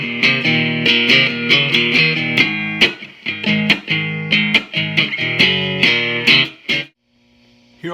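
Three-string box guitar played through its single-coil pickup into a Vox AC15 amp set flat with no effects, a picked riff of bright repeated notes that stops near the end, leaving a faint hum and static.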